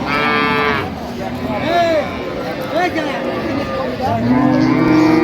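Cows and calves moo several times close by at a cattle market, long drawn-out calls, with people's voices and crowd noise mixed in around them.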